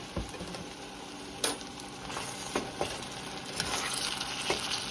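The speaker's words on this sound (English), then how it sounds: "Let me stir" Beans with lemon juice are stirred in a hot pot for holiday rice, giving a steady soft sizzle broken by scraping spoon strokes and occasional knocks against the pot.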